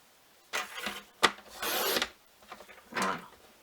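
Paper being cut lengthwise with a blade or scissors, several short rasping strokes and rustles at close range, faint and with no talking.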